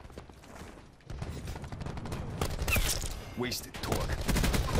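Gunfire in Call of Duty Black Ops 4, including shotgun blasts, cracks and rattles through a busy firefight, rising louder toward the end while a player talks briefly over it.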